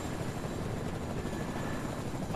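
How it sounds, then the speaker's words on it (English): Helicopter rotor and engine drone in the video game Fortnite, a steady, moderately faint continuous whir with no talk over it. "I wish I could med up this freaking helicopter"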